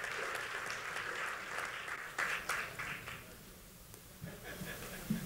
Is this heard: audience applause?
yes